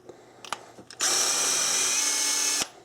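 A power drill spins rifle brass in a case trimmer, one steady loud high-pitched whir lasting about a second and a half after a few small handling clicks, heard up close with no talk.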